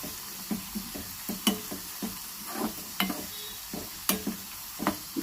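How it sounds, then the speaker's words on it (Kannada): Beetroot mixture frying in oil, a steady sizzle broken by repeated sharp stirring knocks of a spoon against the pan, close and fairly loud with no talk. "ಇದೆಲ್ಲ ಚೆನ್ನಾಗಿ ಫ್ರೈ ಮಾಡ್ಕೊಳ್ಳೋಣ."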